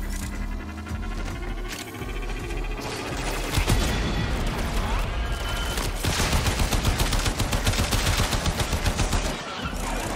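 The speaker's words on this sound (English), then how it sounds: "Laser cannon." Laser cannon firing in the video game Warframe: dense, sustained bursts of rapid crackling shots run throughout, loud and continuous with a steady pulsing rhythm.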